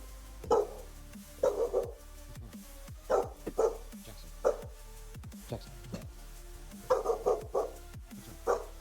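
Dog barking in a repeated, irregular series of sharp barks, close and fairly loud, with short pauses between bursts and no talking over them.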